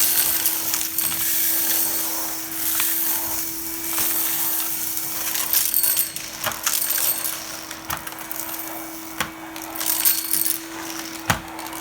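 A Henry Cordless vacuum cleaner on its low setting sucks up dirt through the nozzle, its steady motor hum overlaid by irregular crinkling, crackling ticks as debris rattles through.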